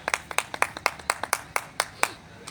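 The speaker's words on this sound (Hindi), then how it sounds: "क्या बात, तालियां बजा रहे हैं।" Audience applause at a Hindi poetry gathering, heard as a short run of distinct, fairly sparse hand claps in an irregular rhythm, close and moderately loud.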